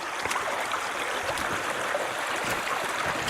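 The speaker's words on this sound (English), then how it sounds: "This little creek is probably snow runoff." A small creek of cold snow runoff flowing outdoors in Washington State, a steady close babbling rush of water that continues evenly throughout with no talk.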